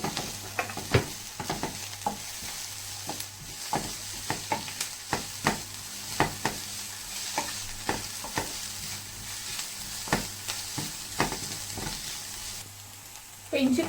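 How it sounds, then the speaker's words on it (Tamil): Onion, ginger and garlic sautéing in a pan for chickpea curry, a steady close sizzle broken by repeated sharp scrapes and clicks of a spoon stirring through the whole stretch, with no talking. "சேர்த்துட்டு அதோட பச்சை வாசனை போகிற வரைக்கும் நல்லா வதக்கிக்கோங்க."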